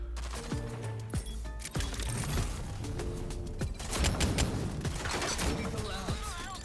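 Arbitrator gun firing in the game Rogue Company, with several sharp shots and bursts over dense game noise and mechanical clatter, loud and close, nearly continuous through the clip.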